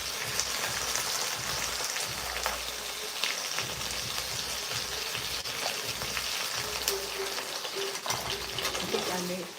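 Potatoes sautéing in a pan, a steady close sizzle and crackle running unbroken throughout, with faint low bumps of stirring or handling beneath.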